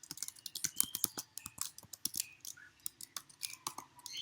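Quiet, close keystrokes on a computer keyboard come in an irregular run of light clicks and taps as a short command is typed, with no voices.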